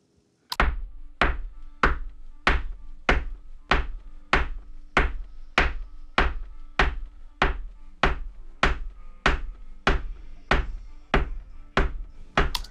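A stomp drum run through the Waves Butch Vig Vocals plugin with distortion dialed in: loud, evenly spaced punchy thuds, about twenty hits in a steady rhythm, heard on their own with no talking.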